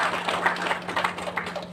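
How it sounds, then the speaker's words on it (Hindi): Audience at a contractors association conference giving applause: short burst of scattered, moderately loud hand clapping from a crowd, with a low electrical hum underneath. "तो जोरदार तालियां इम्तियाज भाई के लिए"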